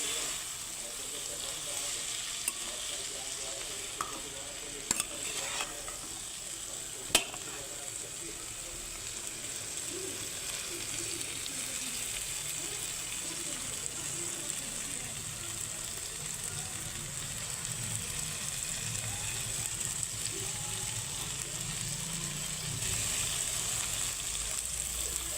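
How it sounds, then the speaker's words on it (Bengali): Spices with turmeric, coriander and salt frying in a pan for a Bengali pui greens dish, a continuous moderate sizzle with a few sharp utensil knocks and a rougher bubbling rise toward the end. "দিয়ে একটু নাড়াচাড়া করতে থাকবো, 5 মিনিট নাড়াচাড়া করতে থাকবো"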